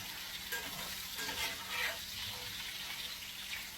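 Potatoes sizzle steadily in a cast iron pan while a metal spatula stirs and rolls them over, giving a continuous close frying hiss with light scraping, no talk.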